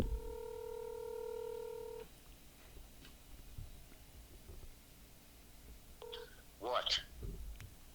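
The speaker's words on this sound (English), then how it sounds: "my dad was just calling me, so I'm going to call him back." Telephone keypad tones beep as a number is dialed, a steady sequence of electronic beeps at the start followed by a couple more key tones, then faint voice sounds and quiet rustling.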